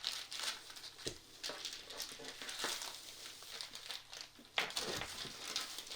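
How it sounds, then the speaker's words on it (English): Plastic wrap crinkles around a lump of pottery clay being rewrapped, a soft continuous rustle with sharper crackles at about 1, 2.7 and 4.6 seconds, close and fairly quiet. "Wrap your clay back up in the plastic"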